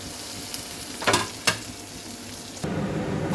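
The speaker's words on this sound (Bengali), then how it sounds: "হিং দিয়ে দিলাম, জিরে ফোড়ন, আদা, হলুদ গুঁড়ো, লঙ্কা গুঁড়ো," Asafoetida, cumin, ginger, turmeric and chilli powder sizzle in hot oil for a potato-filled kachuri filling, a steady close frying hiss broken by a couple of sharp stirring scrapes.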